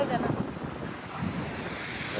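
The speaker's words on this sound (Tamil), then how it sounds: "பயங்கரமா காத்து அடிக்குது." Strong, cold wind gusts across a beach at night, a loud continuous roar buffeting the microphone with rumbling surges and a surf-like wash underneath.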